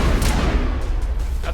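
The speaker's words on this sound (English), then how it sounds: "That's a grenade." A grenade bursts in the video game Mass Effect: a loud, close, booming blast with a rumbling low-end tail that fills the whole short moment.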